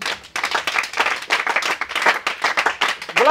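A church congregation applauds with steady, dense hand clapping that fills the space, rising quickly at the start and continuing strongly throughout.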